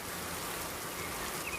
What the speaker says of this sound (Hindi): क्या हुआ कालू भैया, इतनी बरसात में कैसे आना हुआ?